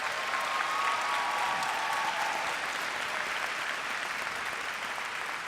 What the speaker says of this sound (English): I'd like for them to stand so you could applaud them